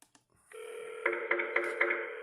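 A Hikvision IP PoE intercom door station plays its knock-knock ringtone, a loud sustained electronic tone with a series of sharp rhythmic knock-like accents, heard close and alone after a couple of faint clicks.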